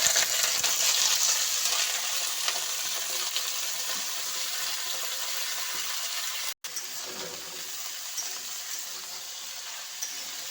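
Cauliflower, potato and onion hit hot oil in a pan and sizzle loudly and steadily, a continuous close hiss with a brief break partway through and no voices.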